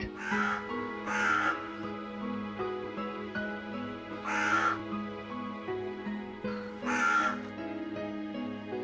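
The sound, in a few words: carrion crows cawing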